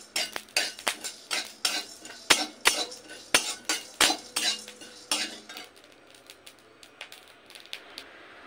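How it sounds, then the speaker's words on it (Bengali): Dry whole spices, coriander seeds, a few chillies and peppercorns, stirred in a dry pan for a fish-head curry: a run of sharp, close metallic scrapes and clinks in an uneven rhythm that thins out toward the end. "এবার শুকনো মশলাটা আমি একটু নেড়ে নিই।"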